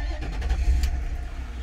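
A 2006 Lincoln Town Car engine runs with a low, steady idle rumble close by, a brief rise early on, then settles into an even hum.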